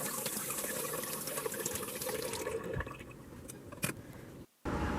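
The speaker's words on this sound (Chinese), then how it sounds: "我们首先要把鸭蛋初步在清水里清洗一下， 把脏物都刷洗干净。" Unwashed duck eggs are rinsed in a basin of clean water, giving a continuous splashing, running-water wash that thins out partway through, followed by a few clear drips and a brief pause.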